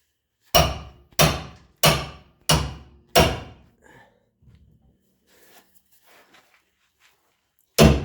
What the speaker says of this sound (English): I'm using a hammer, not a way that it's intended.